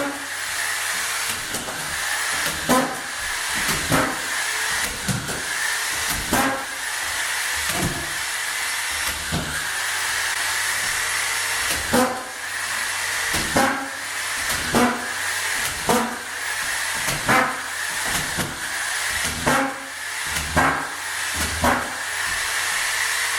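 A screw gun driving screws into a cement board subfloor, with repeated loud whirring bursts every second or two over a steady hiss, close up.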